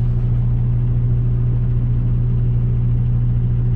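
A tow truck engine idles with a steady, loud low rumble near a tractor trailer stuck in a mud pit, unbroken throughout with no talk.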